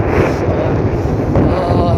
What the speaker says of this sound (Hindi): बहुत ठंडी ठंडी हवा चल रही है, भयंकर वाली।